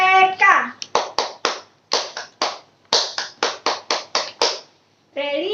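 A seventh-grade class of children performs the 'tepuk PPK' clap chant, with close, crisp groups of hand claps in a brisk, syncopated rhythm. Young voices chant at the start and join again at the end.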